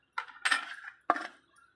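Metal lid set onto a pot of fish curry: two or three close, clattering clinks in quick succession, then quiet.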